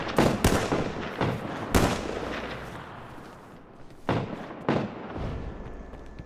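Frag grenades going off in a video game, a rapid cluster of sharp, loud blasts at the start with rumbling tails, then a quieter stretch before two more booming detonations.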